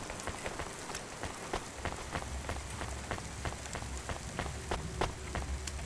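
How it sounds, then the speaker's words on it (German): Steady rain in the video game Cloudpunk patters continuously across surfaces, with distinct droplet ticks over a low background rumble, moderately faint and without speech. "Es regnet und hört nicht auf."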